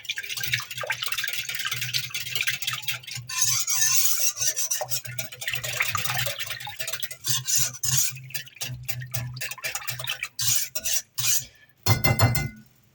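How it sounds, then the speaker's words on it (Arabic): Milk with yeast, egg, salt and sugar being whisked in a bowl, an uneven run of close scraping, clinking strokes that pause now and then, ending in a few sharper knocks. "غادي نطرب هاد الحليب مع الخميره وديك البيضه اللي درت"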